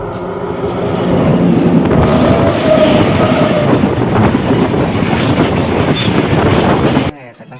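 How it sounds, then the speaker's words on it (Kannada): A train rumbles past close by on a railway line near a lake in south Bangalore, loud and steady for about seven seconds with rattling wheels and a faint squeal, then cutting off abruptly. "ಓ, ಟ್ರೈನ್ ಬರ್ತಿದೆ"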